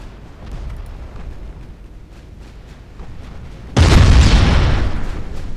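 A torpedo strikes a warship in the naval game Ultimate Admiral Dreadnoughts, a sudden loud booming explosion bursting in over low rumbling background and roaring on as it slowly decays.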